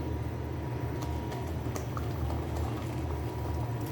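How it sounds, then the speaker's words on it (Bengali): A pot of dal with chopped jute leaves simmers under a lid, giving a steady low bubbling and soft patter that runs on without pause, close and fairly quiet. "ঢাকনা দিয়ে আমি ভালো করে একটু রান্না করে নিব শাকটাকে"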